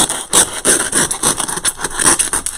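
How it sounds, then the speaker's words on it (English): A blade trims the uneven edges off a block of floral foam, producing a rapid, close series of dry rasping and scraping strokes that sound like quick sawing, with no voices. "It didn't crack real evenly there, so I can just kind of trim these off."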